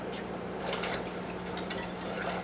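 A whisk rattles and clinks against a pot in quick light strokes, close and moderately faint over a steady background hum, with no talking.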